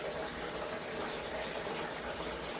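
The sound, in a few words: water draining through tubing into sink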